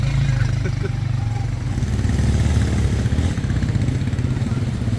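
A motorcycle engine runs nearby in Tanzania with a steady low, throbbing rumble and some rattling, while someone talks over it.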